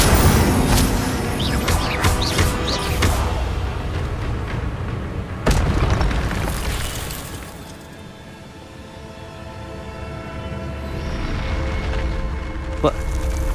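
Incendio fire spell blasts in the Hogwarts Legacy video game, heavy booming bursts with crackling impacts and a sharp hit midway, mixed with music and game effects and voices speaking over them.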